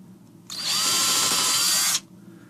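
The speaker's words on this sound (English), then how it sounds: "make some little marks and drill some pilot holes" A power drill bores a shallow pilot hole into a new door for hinge placement, one steady high whine lasting about a second and a half, close and loud over faint room noise.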